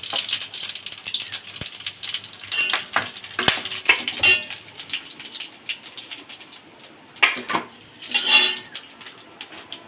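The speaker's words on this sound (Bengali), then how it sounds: "আগে প্রথমে আমি গোটা গরম মশলাটা ফোড়নে দিয়ে দেবো" Whole garam masala is tempered in hot oil in a pan, with repeated metallic clinks and scrapes of a utensil over a light sizzle, loud and close, with no talking.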